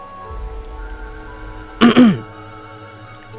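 A man clears his throat in two short, harsh bursts close by, standing out against a quiet background hum.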